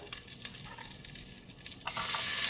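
Whole cumin seeds drop into melted butter and oil and sizzle, starting with faint clinks and stirring before a loud, bright frying hiss swells up near the end.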